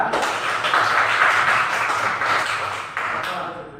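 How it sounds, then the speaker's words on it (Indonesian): Steady applause from a crowd at a talk on honesty and youth, broadband clapping sustained for several seconds and fairly loud, easing slightly toward the end. "Ya, tepuk tangan."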